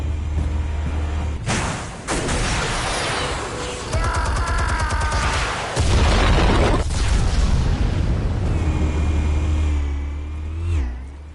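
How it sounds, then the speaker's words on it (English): Explosives detonating in Batman: The Telltale Series: a series of heavy booming blasts with rumbling engine-like roars and crackling bursts, loud and close, with no talk. "Explosives armed. Fire when ready."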